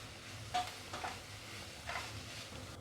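A chapati noodle mixture being sautéed with soy sauce in a pan, with a soft, quiet sizzle and a few gentle scraping stirs of a spoon or spatula at irregular intervals, and no talking.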